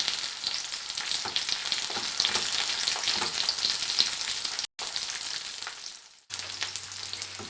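Continuous oil sizzle from a pan of frying dried tomatoes, crackling steadily with a couple of brief dropouts, no talking.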